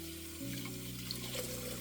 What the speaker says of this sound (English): I'm gonna add more water and kind of just like wash the rice down again.